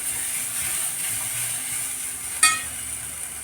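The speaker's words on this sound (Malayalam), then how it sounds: "നന്നായിട്ടൊന്ന് വഴറ്റിയെടുക്കാം" Spice powders sautéing in a pan while making chicken elanji give a soft, steady sizzle, close and faint, broken by one sharp metallic clink partway through.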